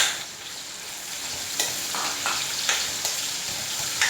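Garlic and onion hit about half a cup of hot oil in a home kitchen. A close, steady hiss and sizzle is broken by several sharp scrapes and clinks of stirring, with no voices.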